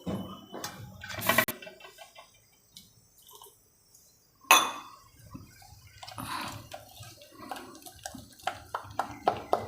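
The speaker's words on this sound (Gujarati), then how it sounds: "હજી થોડુંક પાણી નાખવું પડશે આપણે" Water is added to a spinach batter while it is being mixed for palak khadkhadiya. Short splashy pours and sloshing come in brief bursts, with sparse wet clicks and quiet gaps between them.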